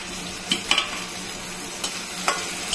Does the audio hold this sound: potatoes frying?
yes